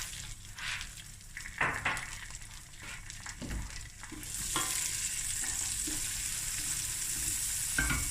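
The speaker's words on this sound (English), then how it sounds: "now I'm going to add some baby tomatoes, cherry tomatoes" Cherry tomatoes dropped into a hot pan with rice, first scattered stirring scrapes and soft sizzles, then a louder steady frying hiss taking over halfway through, close and without voices.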